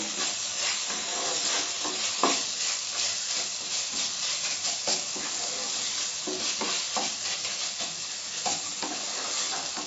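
A spoon stirs Karnataka-style vegetable sambar with garlic paste in a hot pan, scraping and clacking in an uneven rhythm over a continuous sizzle and hiss from the oil.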